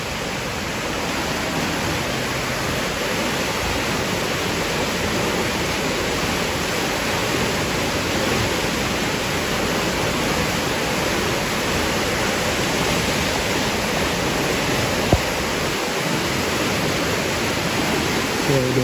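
Water rushing through an opened canal lock gate, a loud, steady broadband roar that fills the scene without a break, with faint background voices.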